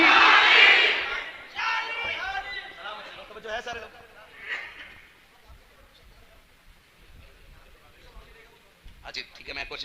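A crowd at a religious gathering roars a loud shouted reply to a slogan at the start, then scattered voices and murmurs trail off into quieter crowd noise, with another short burst of shouting at the end.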